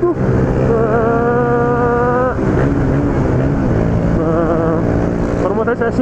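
Suzuki motorcycle engine revving hard, its pitch climbing in a loud sustained whine, dropping briefly, then rising again close to the microphone with wind noise.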